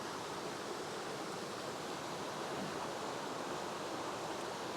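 Water flowing at Weeping Rock in the Blue Mountains, a steady, dense rushing wash like a small waterfall or stream, continuous and fairly near with no voices over it.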